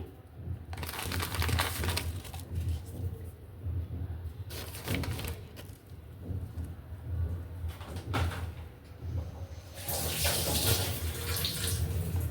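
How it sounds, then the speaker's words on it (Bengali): Water pours in several bursts into a pressure cooker, a close splashing rush that starts and stops, with a pigeon cooing faintly in the background. "আর কিছুটা পানি দিয়ে দিচ্ছি"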